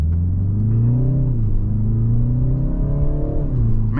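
A 2023 BMW 330i M Sport engine in sport mode gives a steady, loud, close low rumble with a gently rising and falling pitch, heard as the car is shifted into drive and pulls away; no one talks.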